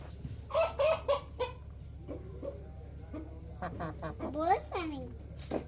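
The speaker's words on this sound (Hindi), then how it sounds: "अभी मैं आपको अपना मुर्गा दिखाता हूँ।" An Aseel rooster gives several short, clipped clucks in quick bursts, then a few more clucks and squawks follow at a moderate distance.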